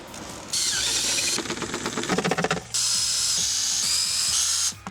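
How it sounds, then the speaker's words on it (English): A power drill whirs in bursts, with a ratcheting, clattering stretch in the middle as short drywall screws are driven into the corners of a cooler; close and loud. "Using short drywall screws, shoot the 4 corners into the cooler."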